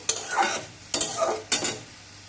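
Three slow, scraping stirs of a raw papaya and potato curry in a pan on low heat, each stroke a soft sizzling swish with brief pauses between.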